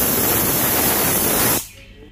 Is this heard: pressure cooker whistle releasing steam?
yes